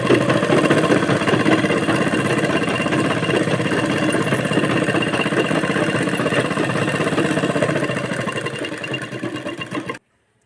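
A sewing machine stitching blouse fabric runs in a steady, fast mechanical whir with even rhythm for about ten seconds, then stops abruptly, heard alone and close.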